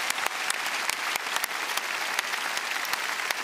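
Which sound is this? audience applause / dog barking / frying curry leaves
audience applause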